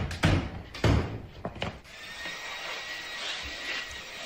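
Several doors in a house are shut in quick succession, a few heavy wooden thuds and slams close to the microphone, followed by quieter room noise.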